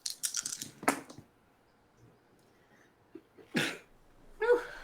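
A single sneeze at a quiet tabletop role-playing session, a sharp burst standing alone, followed by a short pause and then a couple of brief rustles and small noises.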